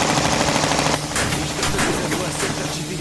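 Sustained rapid gunfire from the video game Repella Fella, loud and close, with a dense continuous burst that changes character after about a second as rattling shots keep going over rumbling noise.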